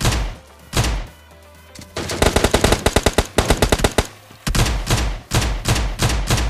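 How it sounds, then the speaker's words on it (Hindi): Rapid gunfire bursts and single heavy shots, including an AWM sniper rifle, ring out loudly in PUBG Mobile Lite gameplay, in clustered volleys with short pauses and no talk. "फिलहाल आप लोगों को AWM की फायरिंग सुनी गई होगी"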